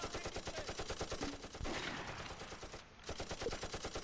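Mortar and gun fire in the Close Combat WWII game at the Second Battle of Belgorod near Kharkov: a steady rattle of rapid shots and blasts with a short lull near the end, filling the whole clip, no voices.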